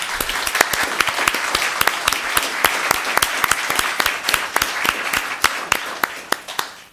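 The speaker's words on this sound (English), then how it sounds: "Let's give them a round of applause." A town council meeting audience applauds new Student Commission members; sparse, sharp individual hand claps ring out in an irregular rhythm over a thinner bed of clapping, close and fairly loud, tapering at the end.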